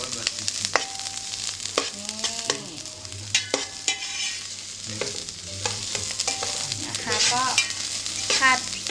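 Mushrooms stir-fried in a pan, loud continuous sizzling broken by repeated scraping and clanking of a utensil against the pan, close and busy throughout.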